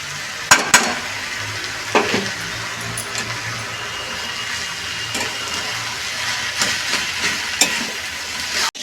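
Crumbled lentil bori dropped into hot oil in a pan, with a loud steady sizzle and a few sharp splattering crackles and stirring clatters throughout.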